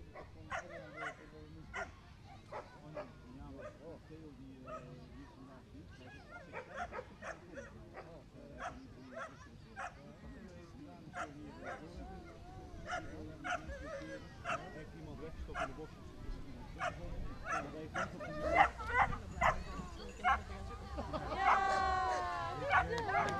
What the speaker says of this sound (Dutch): De hond blaft van blijdschap.